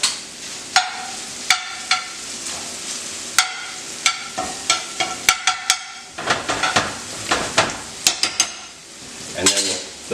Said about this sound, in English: you want to move these shrimp around